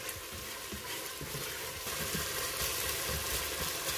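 Ingredients for Yatimcheh, a Persian eggplant dish, sizzle steadily in a hot pan on the stove, a close, continuous crackling hiss with light stirring scrapes and no talk.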